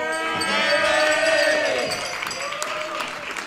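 An audience at a 100th birthday celebration in Glenties claps a little more heartily, a steady patter of hands alongside crowd murmur and a voice.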